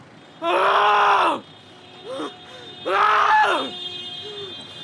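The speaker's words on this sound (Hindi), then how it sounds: "फिर जोर जोर से चिल्लाने लग गया।" A man screams loudly in distress beside a car pulled to the roadside in a horror audio drama, with two long anguished cries separated by a short, softer outburst.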